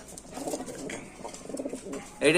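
Pigeons cooing at a pigeon market, several soft rolling coos close by with faint chatter in the background.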